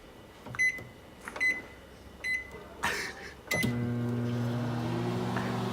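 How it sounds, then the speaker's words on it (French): Microwave oven heating a bowl of chocolate chips and condensed milk: several keypad beeps, a door shutting, then a steady low hum as it starts running. "on va mettre ça au micro-ondes pour 1 minute."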